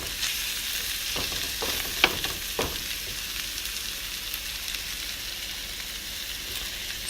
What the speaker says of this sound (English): the chicken curry is coming along nicely, boiling away